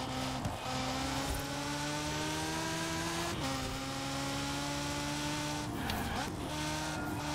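A LEGO Ferrari in Forza Horizon 4 holds a steady, droning engine tone through a corner, with faint tire noise and brief bursts of talk over the top.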